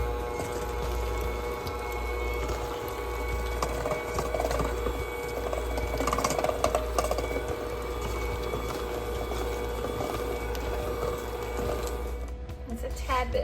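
Electric hand mixer on low speed blending heavy whipping cream with slightly lumpy cream cheese, a steady motor hum with soft wet churning running throughout, close and continuous.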